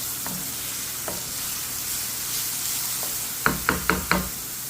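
Mushrooms sauté in a pan over medium heat with a steady, close sizzle throughout. A quick run of utensil taps against the pan comes near the end.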